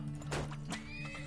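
A horse whinnies in the oil-drilling game Turmoil, two loud neighs close together over a steady low hum, with faint hoof clip-clop alongside.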